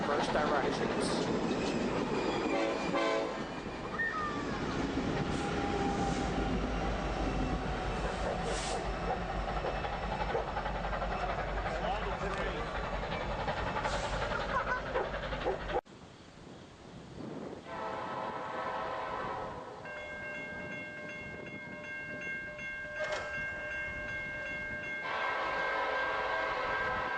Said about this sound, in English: The Wabash unit brings the train past in good style.